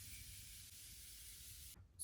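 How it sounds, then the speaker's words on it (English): Morphe makeup setting spray released in one continuous close hissing burst from the bottle, lasting almost two seconds before stopping abruptly. "I'm actually gonna put on a lot of this Morphe setting spray."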